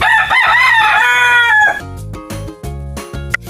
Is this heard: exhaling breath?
no